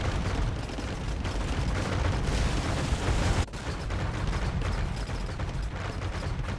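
Cannon galleons fire in a naval battle in a strategy video game, producing a dense, loud barrage of overlapping booms and rumble. The barrage breaks off briefly near the middle, then resumes.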